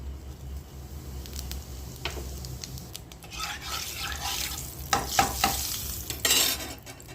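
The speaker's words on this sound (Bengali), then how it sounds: "তেলটা গরম হয়ে গেছে, একটু জিরে ফোড়ন দেবো।" Cumin seeds sizzle in hot oil in a kadai while ghee-fried filling for mung dal puri is being made, a steady crackling hiss with sharper spitting bursts that grow louder toward the end.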